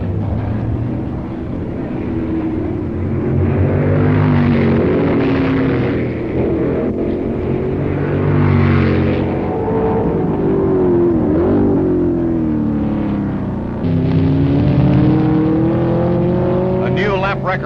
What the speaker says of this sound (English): McLaren's not far behind, getting past Motzenbacher and some tail-end traffic.